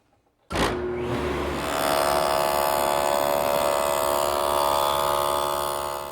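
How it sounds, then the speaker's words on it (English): A table saw fitted with a dado blade spins up with a sharp start and then cuts grooves in 1/4 inch plywood, giving a loud, steady, close whine that holds for several seconds without any talking. "Now I'm making grooves for the partitions between the pigeonholes."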